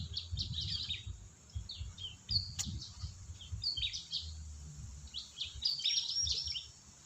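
Birds chirp and sing in short bursts in an oil palm plantation over a low, rumbling background hum, the calls coming and going at moderate distance.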